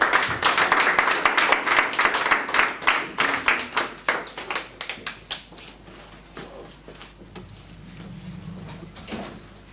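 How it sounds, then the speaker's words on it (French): A church congregation claps for the Lord, a burst of fast, loud clapping that thins into slower scattered claps and fades to quiet room tone with faint murmuring. "Applaudissons aussi pour le Seigneur."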